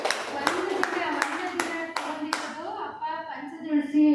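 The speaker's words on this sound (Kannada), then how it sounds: "ಬರ್ಲಿ ಜೋರಾಗಿ ಚಪ್ಪಾಳೆ" A group breaks into loud, evenly spaced applause with about seven sharp claps, close and rhythmic, then fades as a voice starts speaking.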